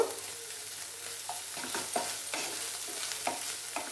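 Ginger paste frying in a pan, a steady soft sizzle with repeated scraping and stirring strokes, close and fairly quiet throughout.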